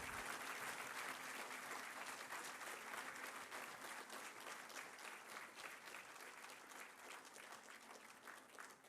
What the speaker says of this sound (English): May I request all of you to give a big round of applause for Honorable Justice Bhushan Gawai Saab